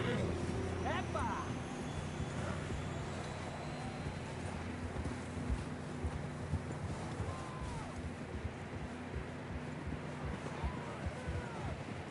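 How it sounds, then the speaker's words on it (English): Horse hooves clip-clop steadily through a Red Dead Redemption II ride, close and continuous under wind noise and a low rumbling bed, with voices shouting and talking over the hoofbeats. "I don't think we can go much further on the horses."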